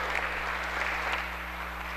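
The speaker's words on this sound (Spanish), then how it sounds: "un aplauso para todos" Applause from the audience at a Senate event on constitutional rights: steady, moderately distant clapping throughout over a low electrical hum.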